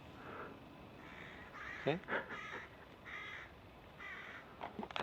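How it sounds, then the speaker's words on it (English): A crow caws in a few short raspy calls, moderately close, over a soft steady background hiss, with a brief spoken word from a person nearby. "So the crow's trying to say Aleph"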